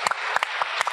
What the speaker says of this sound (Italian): Benissimo, un applauso.